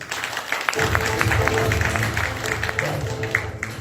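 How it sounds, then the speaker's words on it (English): Guests clap at a priest's birthday celebration, with a burst of applause starting a moment in and continuing as dense, close clapping over faint voices or tones in the room. "A round of applause, please."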